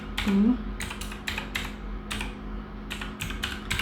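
Keys clatter on a computer keyboard in quick, irregular bursts of clicks, close and clear, as code is typed for a Python password generator.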